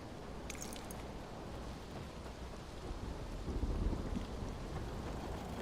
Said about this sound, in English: the rain still follows you indoors a little bit